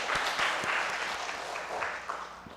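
A church congregation at a Sunday afternoon service applauding the praise team and special singers, a moderate mass of clapping hands that is steady at first and then thins out near the end.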